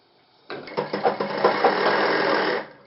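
An electric sewing machine stitching a shirt collar runs in a continuous whir for about two seconds after a few short starting bursts, close and clear, with no talk.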